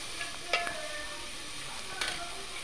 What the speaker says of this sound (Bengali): এখন সব মশলা সুন্দরভাবে আমি কষাই নিচ্ছি